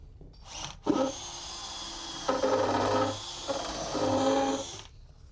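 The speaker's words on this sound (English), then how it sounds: "Now we'll put some screws to the top." Power drill driving screws into the wooden top of a movable kitchen island, two close, loud whirring runs of a few seconds each with short gaps and a brief trigger start.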